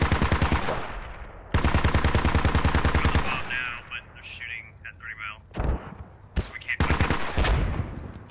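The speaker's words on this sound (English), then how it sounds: "Another rocket comes in just below them" Rockets slam down near players in a Valorant-style tactical shooter match, a burst of loud rapid explosive cracks followed by rumbling debris, then a second heavy barrage a few seconds later, with scattered smaller impacts between.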